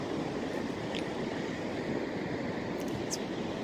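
Steady ocean waves wash in a continuous broad roar near a coast with a lighthouse in view, mixed with wind buffeting the microphone and no voices.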